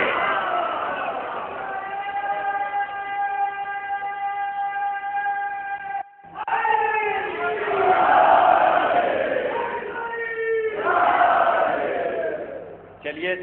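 At a Yaum-e-Abbas religious gathering in Agra, a crowd chants Nara-e-Haidari slogans in loud, sustained unison calls, with a brief break before the voices surge again in rising waves.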